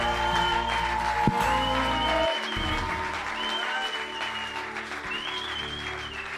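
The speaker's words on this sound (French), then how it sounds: "putting your hands together for the senior pastor of Maison de la Restauration in Quebec City, Pastor Thierry Lumbu" A church congregation applauds for a senior pastor at Maison de la Restauration in Quebec City, clapping spread across the room under sustained music with held tones and a few voices.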